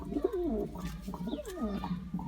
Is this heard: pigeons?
yes